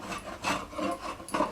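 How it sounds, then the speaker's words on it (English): Draw knife shaving a yew billet for a bow, giving several rough rasping strokes in quick succession, close and moderately loud, with brief pauses between pulls. "you can hear the difference using the draw knife on this stuff"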